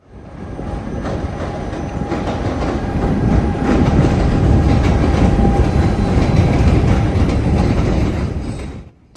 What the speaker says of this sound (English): an outbound EXO commuter train departing